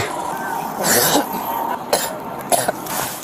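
A person coughs several times and clears their throat, with short sharp bursts spaced irregularly over a few seconds and close to the microphone.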